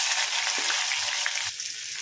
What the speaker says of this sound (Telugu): ఇప్పుడు కట్ చేసిన ఉల్లిపాయ ముక్కలు వేసుకుందాము